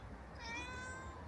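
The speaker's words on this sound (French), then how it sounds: "J'ai entendu un petit chaton miauler." A small kitten meows, a thin, high mewing cry that wavers and trails off over about a second, faint against a quiet indoor background with no talking.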